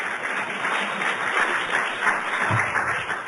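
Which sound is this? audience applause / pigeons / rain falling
audience applause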